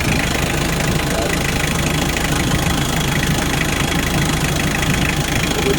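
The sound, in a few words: engine idling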